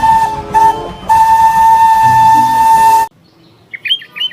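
A toy Thomas the Tank Engine train whistle sounds in a steady, shrill steam-whistle tone, with two short toots followed by one long sustained blast, then stopping abruptly, leaving faint chirpy electronic squeaks in near silence.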